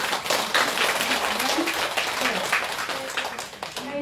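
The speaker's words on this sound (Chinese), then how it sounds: "给他们给我们掌声一下" An audience claps through a short burst of applause, dense and fairly even with a few louder patches, alongside faint murmuring voices.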